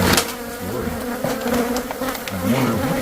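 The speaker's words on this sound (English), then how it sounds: "There's enough bees here to kill, well, a whole neighborhood, actually." A dense swarm of killer bees buzzes loudly and continuously around a bungalow, a thick droning hum filling the whole stretch with no talk over it.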